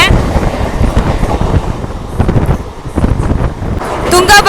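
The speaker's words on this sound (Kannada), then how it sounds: "ಬ್ರಿಡ್ಜ್ ಮೇಲೆ ಹೋಗ್ತಾ ಇದೆ ನಮ್ಮ ಟ್ರೈನ್" Hubballi MEMU express train rolling across a bridge near the Tungabhadra dam, a steady loud rumble and clatter of wheels with some rhythmic knocking, plus a brief brighter squeal near the end.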